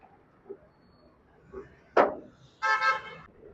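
An auto rickshaw pulls up and honks its horn in a short, bright double toot near the end, after a few faint knocks and a sharp clatter against quiet surroundings.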